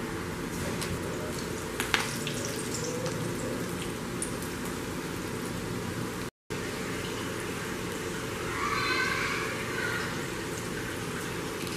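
Spinach and potato pakoras fry in hot oil with a steady, crackling sizzle like rain, broken by a short silent gap, then a brief swell of bubbling as they are turned.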